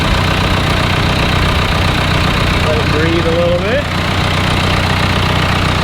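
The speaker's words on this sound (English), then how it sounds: "Yeah, it's a hell of a tractor." Classic 90-horsepower tractor engine idling in the cab: a steady, loud low rumble that continues throughout, with someone speaking briefly over it.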